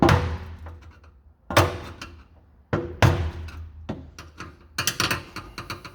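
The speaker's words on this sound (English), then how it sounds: "we want to use the flat-bladed screwdriver and a hammer to turn this lock ring counterclockwise" Sharp metallic hammer blows on a flat-bladed screwdriver turning the lock ring of an in-tank fuel pump on a 1994 Jaguar XJ12, five or six loud, close, separate strikes with ringing decay and a quick flurry at the end.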